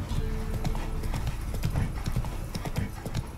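Horse hooves clip-clop in a steady galloping rhythm while riding in the video game Witcher 3, close and continuous, with faint talk underneath.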